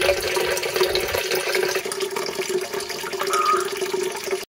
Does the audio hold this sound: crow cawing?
no